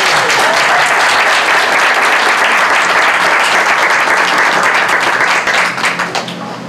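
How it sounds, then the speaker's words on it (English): An audience at a county board of education meeting claps loudly and steadily for several seconds, a dense crowd applause that thins and fades near the end, with no speech over it. "Round of applause for Mrs. Westfall."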